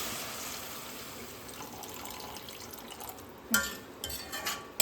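Water pours into a pan of cooking vegetables for a broccoli noodle dish, a soft continuous splashing stream with a few louder splashes near the end, close and fairly quiet.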